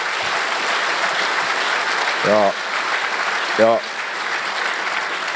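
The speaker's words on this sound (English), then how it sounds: "let's just give us an awesome round of support and applause" An audience at a citrus industry summit gives a round of applause, a continuous wash of clapping with a couple of brief voiced shouts rising above it partway through.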